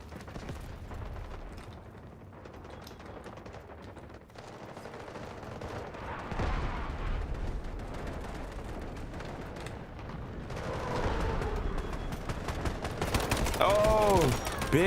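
Dense video-game gunfire fills the mix in rapid, sustained bursts with booming low impacts, growing louder toward the end, while a voice talks over it.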